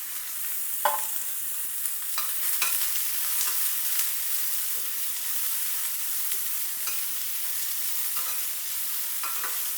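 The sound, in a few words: sautéing onion, carrot and coriander with cumin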